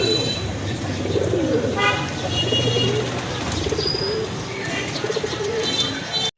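Muslodom knot pigeons coo steadily in a pet market, with low rolling calls filling the whole stretch, while other birds and a distant horn-like toot sound in the busy background.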